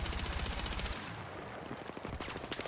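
Automatic weapon fire in the video game Battlefield 6: rapid full-auto bursts crackle loudly at the start, then more shots rattle in a busier, noisier stretch that picks up again toward the end.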